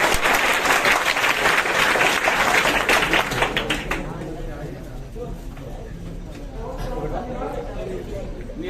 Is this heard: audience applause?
yes